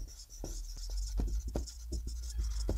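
Pen scratching out a math answer on paper for a Class 12 relations problem, a run of short strokes and taps at close range over a steady low hum, with no talk.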